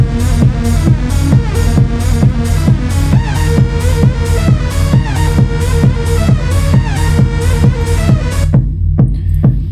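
A dense electronic dance track with a steady four-on-the-floor kick thumping under layered synths, loud and continuous, cutting to a sparse tail near the end.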